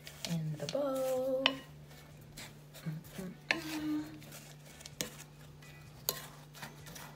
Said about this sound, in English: So mix this around in the bowl.